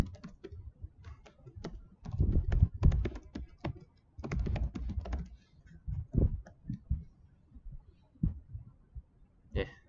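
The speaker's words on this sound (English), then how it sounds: "if I type in the email and password," Someone types on a computer keyboard, entering login details, with bursts of close, soft key clicks separated by short pauses and no talk.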